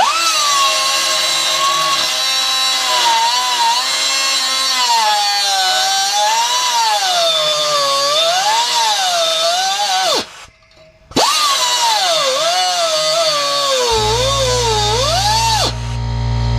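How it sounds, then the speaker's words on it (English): An air grinder cuts exhaust bracket bolts on a 1996 Nissan Altima with a loud, high, wavering whine that rises and falls under load, cuts out briefly, then spins up again and keeps grinding. "use an air grinder such as this and cut the bolts on the back sides here"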